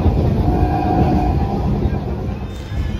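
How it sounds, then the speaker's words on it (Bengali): Train slowly pulling into Ranaghat station in West Bengal, heard as a steady loud low rumble of rolling rail cars with faint rattling, continuous throughout. "আমার ট্রেন এখন ধীরে ধীরে রানাঘাট স্টেশনে ঢুকছে।"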